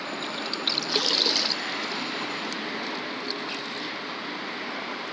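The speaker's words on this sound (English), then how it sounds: "Just get some more water in it." Water running steadily into a small DIY mini fish pond, a continuous close trickling stream with a brief louder splash near the start, no talking.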